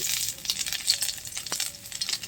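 Chopped ginger sizzles in hot oil in a frying pan while a utensil stirs it, a steady bright crackle with scattered scrapes and clicks against the pan, close and fairly loud.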